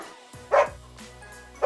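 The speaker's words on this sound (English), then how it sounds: "That was a dog." A dog gives two short, sharp barks close by, about a second apart, with a quiet pause between.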